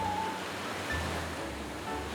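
Surf washes steadily onto the shore at Yeongildae Beach in Pohang, a continuous low rush of ocean waves with faint wind and no voices.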